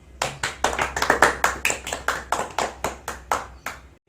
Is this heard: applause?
yes